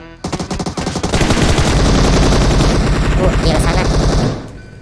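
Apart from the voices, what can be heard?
gunfire at a car in PUBG Mobile video game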